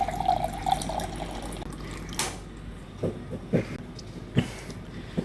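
Water runs from a tap for the first couple of seconds, then stops, followed by a few soft gulps and splashes as someone drinks, close and fairly quiet.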